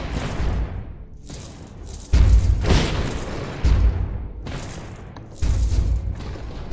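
Mortar shells explode again and again in Alchemist Defender VR, with deep booming blasts and rumbling, crackling debris landing every second or so in a dense, continuous barrage.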